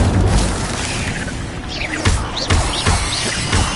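The Incendio fire spell cast in Hogwarts Legacy, a loud roaring burst of flame with heavy booming thuds and whooshes repeating through a noisy fight, no voice heard.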